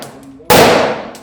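A single close, loud gunshot from a newly bought 9mm Hi-Point handgun at the range, a sharp crack with a decaying tail, preceded by faint voices.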